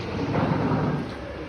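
Rain falls steadily in a waterlogged residential lane, a dense, noisy rush of water for a short stretch with no voices, fading slightly toward the end.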